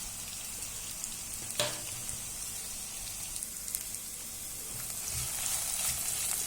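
Chopped green chilies and ginger frying in oil in a pan, a steady close sizzle with soft crackles and one sharp pop, no voices.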